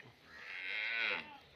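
A Cholistani Friesian cross cow gives a single drawn-out moo lasting just over a second, rising and holding before breaking off, fairly close and clear with little else around it.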